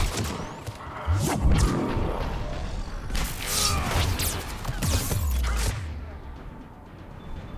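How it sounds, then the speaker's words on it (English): Mechanical thumps, creaks and whooshing bursts of a turret deploying during a Mass Effect 3 firefight on Tuchanka, with crashing impacts spread across the stretch and loud game noise throughout. "I think I hear a turret being deployed as well."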